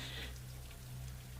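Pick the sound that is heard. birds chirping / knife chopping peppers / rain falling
rain falling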